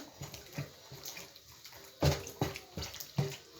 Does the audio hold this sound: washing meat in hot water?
yes